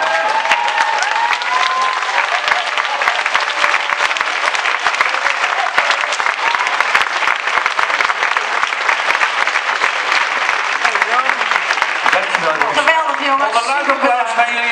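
Audience applause at a singer's fan club weekend in 2016 fills the room as a dense, steady clapping that lasts the whole stretch, with a voice starting to speak near the end.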